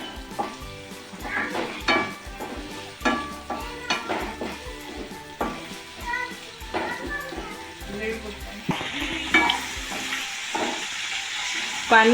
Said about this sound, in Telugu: నేను కొంచెం ఆయిల్ వేసి ఆనియన్స్ టమోటా కాజుని వేయించుకుంటున్నాను